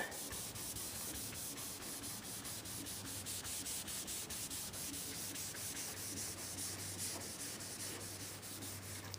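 Continuous hand color sanding of paint, a steady dry rubbing hiss close by, with a faint low hum underneath and no talking.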